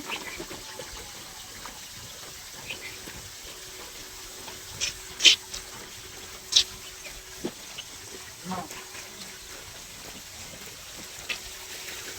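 Steady rushing water hisses throughout at moderate level, gushing from a broken village water valve, with a few sharp clicks and knocks and some talking underneath.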